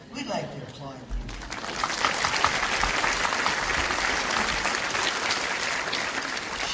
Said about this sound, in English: We'd like to applaud you.